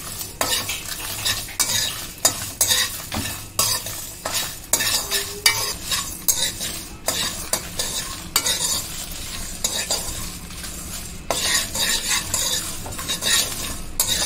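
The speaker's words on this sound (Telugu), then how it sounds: "సో ఇలా రోస్ట్ చేసుకుంటూ కలుపుతూ రోస్ట్ చేసుకోవాలి." Coriander seeds, cumin and red chillies dry roasting in a pan for a Telugu fish curry, with a spoon scraping and stirring in quick repeated strokes over a soft, continuous crackle, close and without talk.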